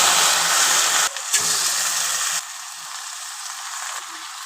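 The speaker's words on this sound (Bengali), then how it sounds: "পেঁয়াজ রসুন ব্রাউন কালার করে নিয়েছি, দেখুন সরিষার তেল দিয়ে। এখন বাগার দিয়ে দিব।" Hot mustard oil with browned onion and garlic poured into a pot of beef nihari gives a loud, bright sizzle that cuts off sharply, then settles into a softer, steady hiss.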